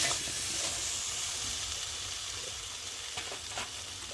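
Vegetable curry with soybean chunks sautéing in a pan, a soft continuous sizzle and hiss with a couple of faint stirring scrapes near the end.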